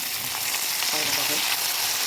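Vegetables and peppers for moussaka fry in a pan, with a loud, dense, continuous sizzle heard up close.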